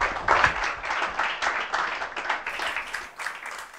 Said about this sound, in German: würde das Publikum auch bitten, das nochmal hier mit kräftigem Applaus zu bekräftigen